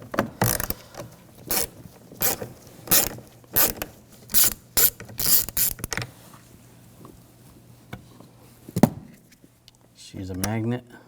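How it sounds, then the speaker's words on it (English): Ratchet wrench with a T20 socket backing screws out of a 2007-2013 BMW X5 rear door panel, a rapid run of sharp clicking bursts in quick succession up close, then a pause and a lower mechanical whir at the end. "Using a T20 socket, we're going to take these screws out."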